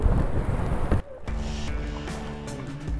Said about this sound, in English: It's normally not this windy.